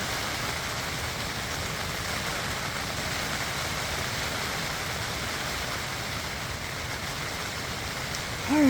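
Steady, dense hiss of rain falling on surfaces, constant and unbroken throughout, with no voices.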